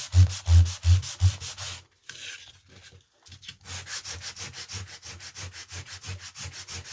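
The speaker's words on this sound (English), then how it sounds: "I'm going to continue to sand this one down so that it's as faded and aged out as some of these other ones" Sandpaper rubs back and forth over a faux wood foam core board Easter egg, quick rhythmic close strokes, a brief pause, then steadier repeated passes.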